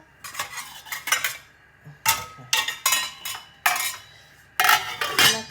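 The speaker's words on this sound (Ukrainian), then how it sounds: "Накриємо кришкою." Metal lids clanking against a cooking pot of stewing cabbage soup, a series of close, sharp clinks and rattles in several bursts with short quiet gaps, no voices.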